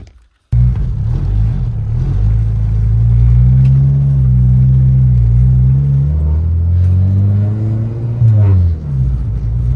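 An Acura Integra idling close by through a Spoon N1 exhaust after starting up, a deep steady burbling rumble with a brief rise in revs near the end.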